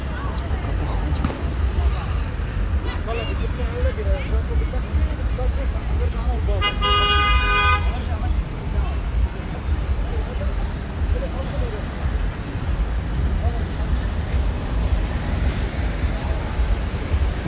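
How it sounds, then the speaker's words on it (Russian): Nighttime street traffic in Alanya, with a steady wash of passing cars close by and a brief horn toot partway through. Voices talk over the continuous road noise. "Нельзя сказать, что прям пробка, что все прям едут, уже разъезжаются"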